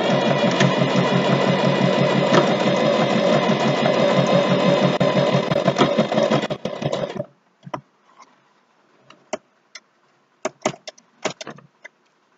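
Sewing machine stitching a straight seam on a jockstrap, a loud close continuous mechanical whir for about seven seconds, then stopping and followed by scattered small clicks and handling noises.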